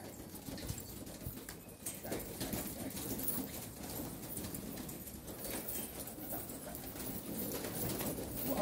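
Pigeons outdoors, a steady mass of fluttering and cooing bird sound with scattered clattering and shuffling, continuous throughout and fairly close, with no talking.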